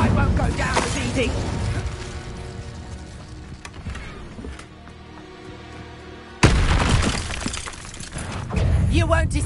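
Incendio fire spell cast in the video game Hogwarts Legacy: a loud, crackling burst of magical fire and impact noise that fades and then surges again, with a voice speaking over it.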